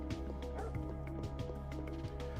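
A dog in the 1998 video game Parasite Eve lets out a few soft yips and barks over a low, humming game soundtrack, quiet and somewhat buried in the mix.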